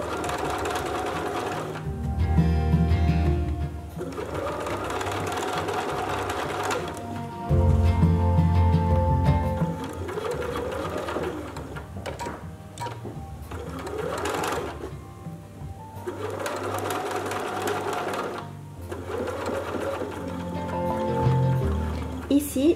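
Sewing machine stitching a dressmaking zipper in bursts of steady mechanical whirring, loud and close, with pauses between runs and a voice talking over and between the stitching.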